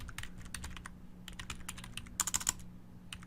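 Fast, uneven typing on a computer keyboard, with clustered keystrokes and short pauses, close and fairly quiet.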